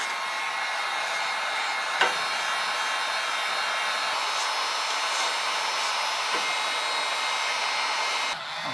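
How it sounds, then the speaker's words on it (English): A heat gun blows over plastic being softened for kids' stilts, producing a continuous close, steady airy roar with a few faint clicks. "we're going to take this heat gun and we're going to heat this up"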